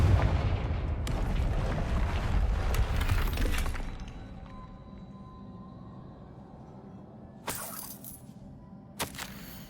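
In Hogwarts Legacy, a Confringo spell blasts through a barrier with a loud rumbling crash and shattering debris for about four seconds, then quieter ambience and two sharp cracks near the end, with no talk.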